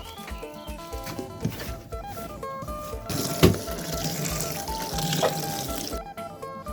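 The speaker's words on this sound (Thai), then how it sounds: "เราจะเอามา ล้างเกลือนะครับ ทำความสะอาด" Salted pork lung is rinsed clean under a running tap in a home kitchen, a steady splashing water stream with brief louder gushes, close and continuous without talk.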